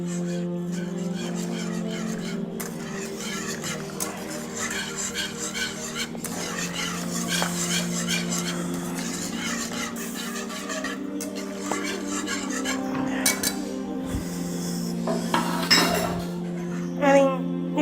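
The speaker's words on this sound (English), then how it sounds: "Stir it well." A spoon stirs panna cotta mixture with added gelatin in a metal pot, giving continuous scraping and light clinking against the sides over a steady background hum, with occasional sharper knocks near the end.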